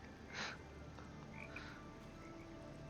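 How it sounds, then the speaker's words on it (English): Frogs croaking in the video game Talos Principle 2, a few distinct croaks spaced across a steady ambient background, moderately near and alone without talk. "Frogs! Frogs!"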